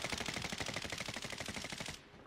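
Rapid automatic gunfire in a shooter video game, a dense steady burst of fast shots lasting about two seconds before cutting off, fairly faint and with no voices over it.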